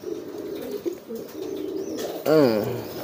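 A male pigeon coos hard while courting a female, a single loud, wavering burst of cooing near the end after quieter rustling and faint bird sounds.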